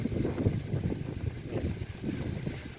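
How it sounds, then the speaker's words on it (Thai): Strong, gusty summer wind buffets the microphone in Surin, Thailand, a steady rumbling roar that swells and eases in uneven surges, close and loud, with no voices present. "แต่ว่ายังมีลมกระโชกเนี่ยครับเนี่ยอันตรายแห้ง"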